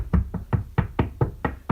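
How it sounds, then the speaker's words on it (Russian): Suspicious knocks in a house at night come as a steady series of about eight dull thuds, evenly spaced and fairly close, with no voices. "Я услышала очень подозрительные стуки."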